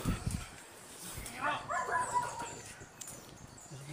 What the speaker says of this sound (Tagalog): Pansin tayo, si may aso.